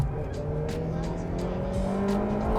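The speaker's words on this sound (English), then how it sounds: "This 160 kilowatt K20 just revs forever." 2008 Honda Civic Type R FD2 with its 160 kW K20 engine revving hard in second gear, a loud, steady high-rpm howl that climbs in pitch and keeps building with no break, heard from inside the car.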